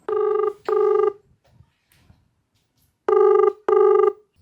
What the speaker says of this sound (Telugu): ఒక్కసారి తనతో ఫోన్ కాల్ మాట్లాడతాను